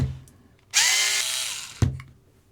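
A power driver whirs for about a second, removing a 2mm hex screw from a carbon suspension holder on a Kyosho Optima Mid 87 WC Worlds Spec RC car, with a sharp click as it stops, close and loud.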